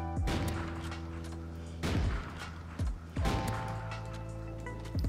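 Bursts of booming sniper gunfire and explosions from Call of Duty: Ghosts, several heavy thuds with a ringing tonal hum beneath, moderately loud.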